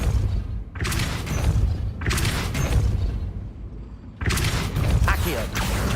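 Depulso repulsion spell cast in Hogwarts Legacy, heard as three loud bursts of booming, thudding force, each followed by a rumbling tail, over a steady low game ambience.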